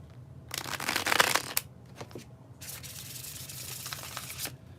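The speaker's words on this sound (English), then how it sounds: "When I do the bridge shuffle" A deck of cards gets a bridge shuffle: two bursts of crisp, rapid riffling flutter, the first louder, with a brief pause and soft handling in between, close up.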